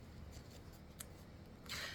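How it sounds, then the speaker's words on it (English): A tarot card deck being shuffled, very quiet soft scraping and light ticks building to a denser riffle near the end, with no voices. "So I do have a tarot deck here that I'm just shuffling"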